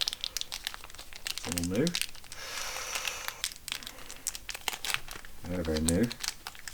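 Masking tape is peeled and crinkled off a Panasonic Lumix LX100 II camera box, giving close, scratchy rustles and crackling tears in short bursts, with someone talking in between.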